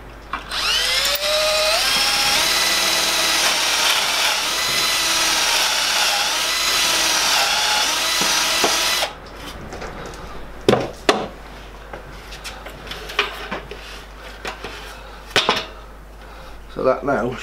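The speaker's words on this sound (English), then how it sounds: "push up to the fence, drill your hole." A power drill whines steadily for about nine seconds while drilling a dowel hole in wood, then stops, followed by scattered knocks and handling clatter.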